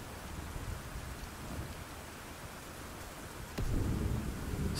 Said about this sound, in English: The weather in daytime with rain is